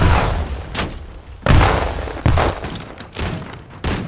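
A grenade lands and detonates amid multiplayer gunfire in Call of Duty Black Ops 7, with several sharp thudding blasts and bursts of shots in quick succession.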